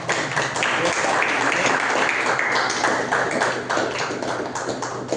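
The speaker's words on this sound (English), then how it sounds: "Please give a big round of applause to welcome" Dense, steady applause from a Toastmasters meeting audience welcoming a speaker, many hands clapping close by at a constant level for several seconds.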